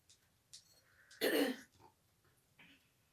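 A single harsh throat clearing up close, a short raspy burst surrounded by a few soft mouth and breath sounds.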